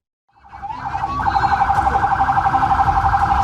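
A loud fire engine siren wails, rising from silence and settling into a steady, rapidly warbling tone, close by, with low rumbling traffic noise underneath, on a crowded carnival street in Jember, East Java.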